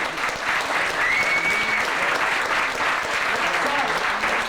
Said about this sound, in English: Let's give Sarnetta another round of applause